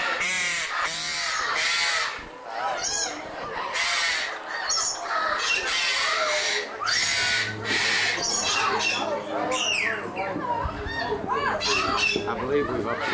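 Eclectus parrots, green males and red females, kept at a home, squawk and scream in loud repeated harsh bursts that overlap one another nearby.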